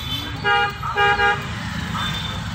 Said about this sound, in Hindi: हॉर्न बजाओ